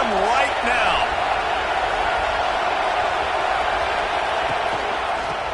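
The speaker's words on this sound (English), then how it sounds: "These fans raising the volume on second and goal." A Texas football stadium crowd roars during a second-and-goal play, a loud sustained wall of noise throughout, with a commentator talking over it.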